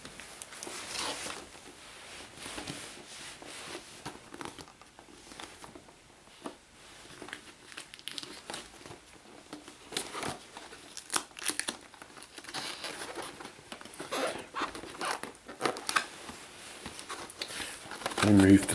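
Tape being peeled off the box of an Assassin's Creed collectible magazine issue while it is unboxed: close crinkling and tearing bursts that come and go, mixed with handling noise, as someone talks over much of it.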